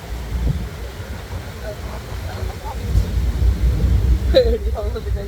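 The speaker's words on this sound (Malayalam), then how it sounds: "അയ്യോ, കാറ്റുണ്ട്, നല്ല കാറ്റുണ്ട്." Strong wind buffets the microphone on a Bosphorus ferry crossing to Kadıköy on the Asian side of Istanbul, a steady low rumble under faint engine and water noise with brief voices.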